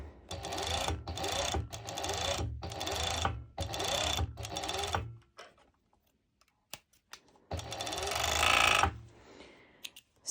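A domestic sewing machine runs a zigzag stitch at 3.5 width while elastic is attached, chattering in several quick start-stop bursts, then a pause and one final louder run.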